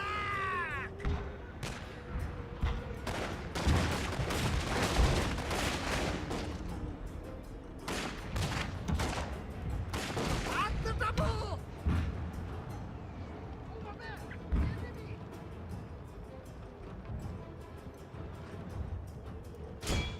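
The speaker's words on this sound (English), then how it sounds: "Empty your pistols into him, General." Pistol gunfire in a Shogun 2: Fall of the Samurai battle, with sharp cracks and rattling volleys in irregular bursts, some dense and some sparse, amid game battle noise and voices.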